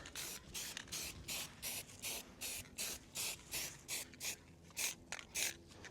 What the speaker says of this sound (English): when I spray the paint